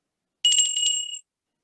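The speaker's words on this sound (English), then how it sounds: "So if you do hear a bell like this" A single bright bell tone rung as a one-minute warning for panel speakers at a clean tech business event, a sustained ringing lasting under a second and clear against silence.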